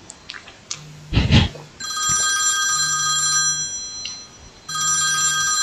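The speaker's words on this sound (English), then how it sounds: "Phone's still ringing." A telephone ring tone sounds in a cartoon setting, rising in repeated bursts with pauses between them, loud and close, with some thumps and rustling noises early on and no talking.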